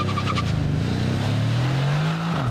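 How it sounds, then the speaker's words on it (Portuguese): Twin-turbo V8 car engine of 510 horsepower revving hard in first gear with the brake held, a loud close growl whose pitch climbs steadily before dipping at the end. "V8 é garantia de ronco forte."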